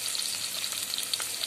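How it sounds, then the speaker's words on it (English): Garlic goes into a hot pan for white sauce pasta, giving a loud, close, continuous sizzle and crackle of frying with no voices. "Add garlic to it."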